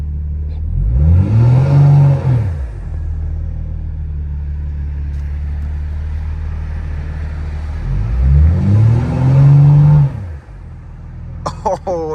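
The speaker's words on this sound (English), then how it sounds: "Let me let you hear the launch control." A BMW G80 M3 on launch control revs hard twice, about six seconds apart, with a rising, snarling engine note. A steady, deep idle rumbles between the revs, close and loud, with a brief click near the end.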